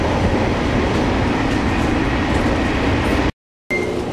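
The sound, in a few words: riding the Sonic limited express train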